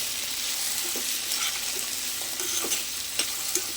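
Onions and potatoes fry in a pan with a soft, steady sizzle, while scattered scrapes and taps from stirring mark the mixing.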